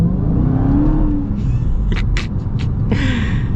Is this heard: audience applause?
no